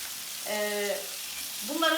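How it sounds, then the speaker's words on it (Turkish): Homemade meatballs fry in a pan with a soft, continuous sizzle, while a couple of short tonal squeals rise over the hiss near the middle and the end. "Köftelerimizi kızarmaya bırakalım."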